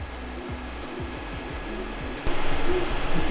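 A 3D printer's motors whir steadily as the nozzle moves into position over a failed print, with faint repeated ticking and a louder burst of motor noise near the end; no one speaks.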